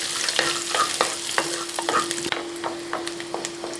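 Cashews with ginger and garlic roast in a pan, loud and close, with a spoon scraping and clacking against the metal in an uneven rhythm over a steady frying sizzle.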